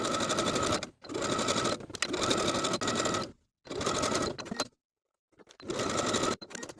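A sewing machine stitches around the neckband of a pull-on V-neck top, sewing a second row a quarter inch from the first. It runs in four close, fast, steady bursts separated by short pauses, with no talk.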